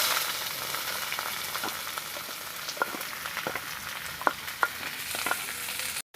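Chopped onion fries with bay leaf, dried red chillies, whole garam masala and cumin seeds in a pan, a dense, steady sizzle close by with occasional light spatula taps, ending in a brief cut.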